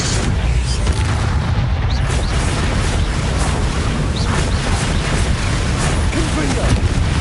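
Spell explosions from Confringo and Bombarda in the Hogwarts Legacy video game, a dense, continuous run of booming blasts and bursts with a heavy low rumble throughout.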